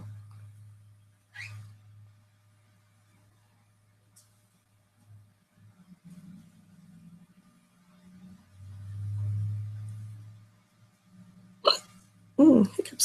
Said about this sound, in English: Hiccups coming today.